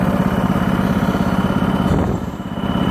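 A motorcycle with a busted wheel hub idles before a test ride, a loud close engine with a steady low throbbing pulse that dips briefly near the end, and no voices.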